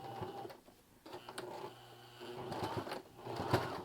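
A sewing machine stitches bias tape around a neckline, its motor whirring in close, uneven bursts that speed up and ease off, with no talking.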